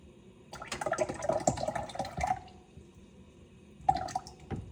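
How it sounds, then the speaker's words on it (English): Thick blended watermelon with seeds and skin pours from a blender jug into another container in a glugging, splashing stream, stops, then comes in one short final splash. "Adding that blended watermelon that I put in there"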